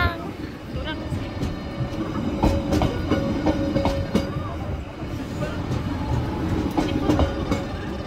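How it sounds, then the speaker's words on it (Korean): The Haeundae sea train in Busan passes nearby with a rhythmic clickety-clack of wheels over rail joints and a rumbling roll, while people talk over it. "기차 지나가나 봐."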